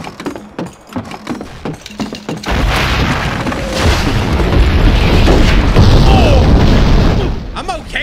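Heavy cannon fire in the Red Dead Revolver video game, a loud sustained roar of booming blasts that swells after a few seconds of talk and game noise, with a person speaking over parts of it.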